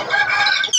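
A hen gives a single short, loud cluck close by.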